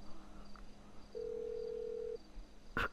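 A phone in the game Grand Theft Auto V dials a taxi: a short beep, then a long steady tone of about a second under faint background ambience, ending in a brief louder burst.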